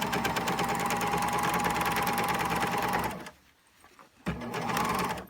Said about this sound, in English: That's how I serged just the fly.